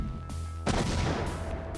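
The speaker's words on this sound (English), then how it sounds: "He was holding the handgun and then it just got blown up. That was that explosion sound effect." A handgun blowing up in the 1993 adventure game Gabriel Knight: Sins of the Fathers makes a sudden loud blast that cuts through a low droning soundtrack and leaves a noisy rumbling tail.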